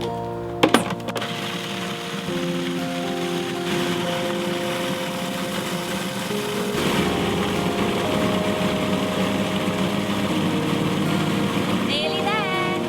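A blender whizzing a raw vegan berry cheesecake mixture of cream and mixed berries, a steady high motor whine that deepens and thickens partway through, with a voice speaking over it.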